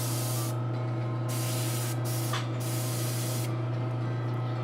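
Spray paint hissing from a slightly clogged can nozzle onto an anime model kit, several sustained bursts separated by brief pauses over a constant low hum, close and without speech.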